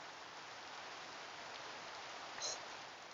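Rain in Minecraft, a soft, steady, even hiss of falling rain at low level, with a faint brief chime near the end.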